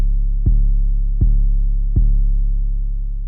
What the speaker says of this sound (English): we also have the Spins 808 that's been EQ'd to just leave out the highs so that it has a crackling sound